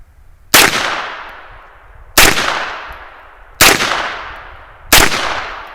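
A 9mm upper fires in semi-automatic mode: four loud, sharp shots spaced about one and a half seconds apart, each with a ringing decay, close to the listener and with no talk.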